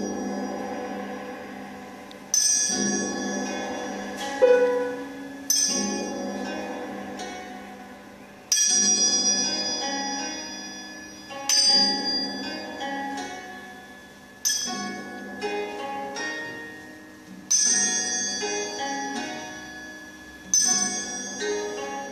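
A gong from a keyboard piece, struck about every three seconds, each hit blooming into a bright shimmering ring that slowly decays, mid-loud and alone.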